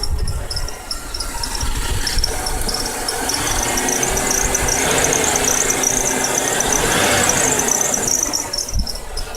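An old Toro LX425 lawn tractor engine revs under load, a steady rough running roar close by with a persistent high squeal on top that swells and eases over several seconds.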